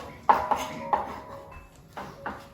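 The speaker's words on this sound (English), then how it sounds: "now we're gonna add our minced garlic into this bowl" Minced garlic is spooned into a bowl while butter for lamb chops is prepared, giving a few sharp metallic clinks of a utensil against the bowl with quieter scraping between them.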